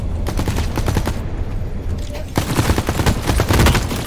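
Rapid, dense gunfire in The Cycle Frontier, overlapping rattling shots and bursts in a continuous volley with a brief lull in the middle, fairly loud and close throughout.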